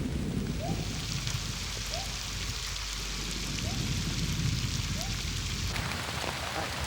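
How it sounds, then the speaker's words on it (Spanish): Heavy jungle rain pours down in a dense, steady hiss of drops hitting leaves and ground, with a few faint chirps over the downpour and a short shift in texture near the end. "la tormenta vuelve a descargar con fuerza"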